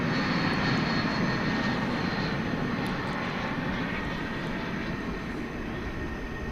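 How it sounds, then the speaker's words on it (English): Steady, loud jet-engine roar from an arriving passenger jet from Cancun at DFW Airport at night, a sustained broadband rush that fades slightly toward the end, with no voices. "So there's the arrival of the Cancun flight"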